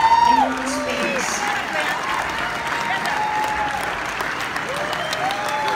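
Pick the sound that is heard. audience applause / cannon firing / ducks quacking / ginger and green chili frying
audience applause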